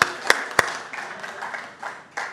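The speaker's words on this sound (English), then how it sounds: "So I'm going to clap." Sharp hand claps sound at a symposium on ring shout with members of the McIntosh County Shouters, two loud distinct claps early followed by softer scattered clapping and room noise.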